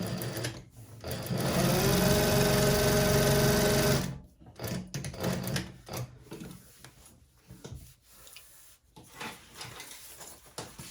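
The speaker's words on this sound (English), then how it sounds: "do a little locking stitch at the beginning and the end" A sewing machine stitches the lining of a handbag, a loud close steady run of whirring for several seconds that stops abruptly, followed by quieter handling clicks and rustles of fabric.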